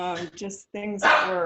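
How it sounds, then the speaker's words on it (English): A dog barks a few short times indoors, heard under and between a person's talking in a brief snippet. "oh, sorry, that's my dog."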